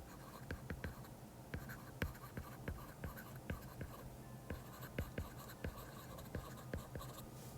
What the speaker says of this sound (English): I suppose I'll write that out